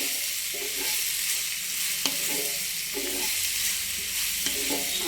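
Thinly sliced onions softening in a pan for egg bhurji, a steady low sizzle with occasional spoon scrapes and stirs, close but fairly quiet, with no voices.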